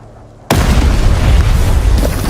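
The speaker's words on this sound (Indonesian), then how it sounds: "Reese menekan pemicu itu yang membuat semua bom langsung meledak." Bombs detonate in a film scene: a sudden loud blast cuts in after a quiet moment and rolls on as a heavy, sustained rumble of explosions.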